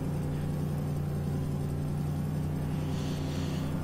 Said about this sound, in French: Il a l'air d'avoir un peu un bruit assez fort ce pick-up.